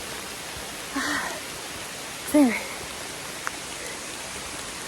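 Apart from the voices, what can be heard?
heavy rain pouring on Appalachian Trail mountain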